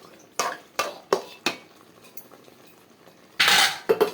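Metal pot lid and utensils clattering on a cooking pot of chicken thokku in a home kitchen: a series of sharp, close clinks at a steady rhythm, then a louder scraping clatter near the end.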